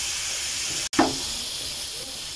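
Garlic paste, ginger paste and green chillies sautéing in a hot pan: a sharp hissing sizzle flares up after a brief cut, then settles into a steady, softer hiss.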